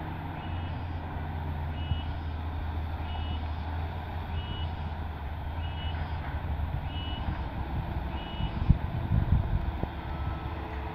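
Reversing beeps from an earth-leveling vehicle at a toll road construction site in Jambi, Sumatra, evenly spaced alarm tones repeating over a steady engine rumble and wind noise, with a brief clatter near the end.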